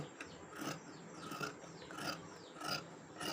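Scissors cutting blouse fabric for a boat-neck blouse, snipping along the marking below the bow string: a faint, even series of about five crisp rasping snips, close and quiet.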